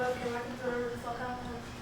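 An acoustic guitar chord strummed and left ringing, faint and sustained for about two seconds, with steady harmonic tones and no talk.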